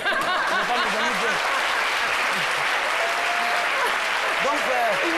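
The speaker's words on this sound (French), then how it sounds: "Bravo, on les applaudit encore très fort." Studio audience applause on a midday television show cheering quiz champions, loud continuous clapping with scattered laughter and voices mixed in throughout.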